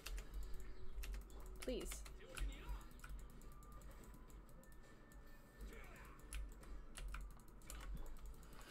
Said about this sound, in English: I like the clicky sound of my keyboard, but I'm sure it's kind of loud because my mic is right there.